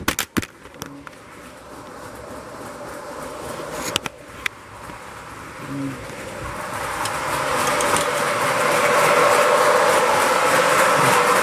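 An O gauge model train locomotive with a Proto Sound system runs, its small electric motor whirring and humming, building gradually louder and brighter, with a few sharp clicks and knocks near the start.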